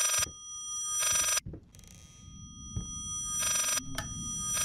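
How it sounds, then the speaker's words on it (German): A telephone rings in the video game Layers of Fear, sharp bursts of electronic ringing separated by silences, with faint eerie background rumble and small knocks between rings. "Hey, was ist das? Ein Telefon,"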